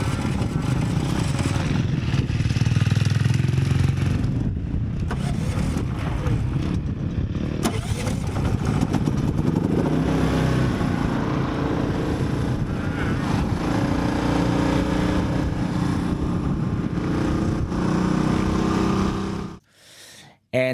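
A generator runs loud and steady at close range while charging the battery of a Stark Varg electric motocross bike, its constant engine roar cutting off abruptly near the end.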